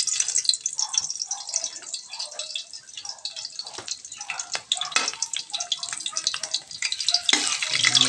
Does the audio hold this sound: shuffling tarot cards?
no